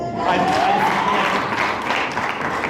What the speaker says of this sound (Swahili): Upige makofi.